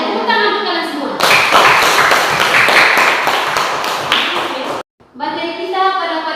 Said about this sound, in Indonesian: Kalian tepuk tangan untuk kalian semua.